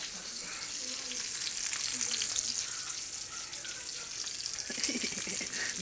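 Bacon fries in a pan with a dense, steady sizzle and crackle, close and continuous, with faint background clatter and no talk.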